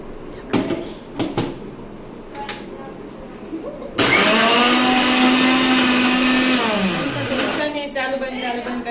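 An electric mixer grinder grinds biscuits in its jar. Four seconds of faint clicks and handling come first, then the motor bursts in loud and whirring and keeps running, its pitch dipping near the end.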